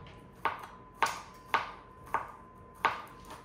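Garlic being chopped in a home kitchen: five crisp knife strikes against a cutting board at an uneven, unhurried pace, close and fairly quiet, with no talking.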